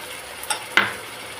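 Ginger garlic paste and garam masala powder sizzle in a pan, with two short scraping stirs, a light one and then a louder one, over a quiet steady fry.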